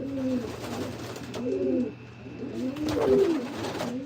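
Pigeons in a loft coo in repeated soft, throaty phrases, several overlapping birds at close range over a steady low hum, with no one talking.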